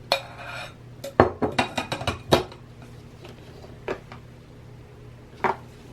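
A metal sifter and bowl clatter and clink in a kitchen while beet, carrot and orange juice is prepared, a quick run of sharp knocks followed by a few scattered single taps.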